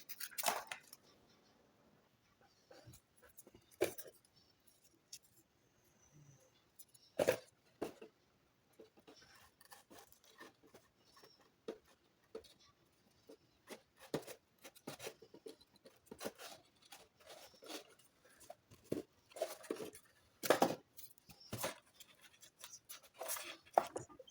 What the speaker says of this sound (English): So I'm doing the wood trimming right now